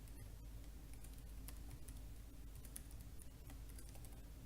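Rapid keystrokes on a computer keyboard as a command is entered, a quick irregular run of soft clicks continuing throughout, with no talking.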